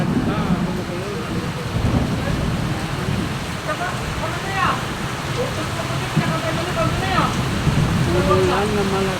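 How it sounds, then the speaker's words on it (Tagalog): Heavy rain pours down in Abra, a dense constant hiss of drops on surfaces, with voices talking intermittently underneath. "Umulan na malakas dito sa Abra."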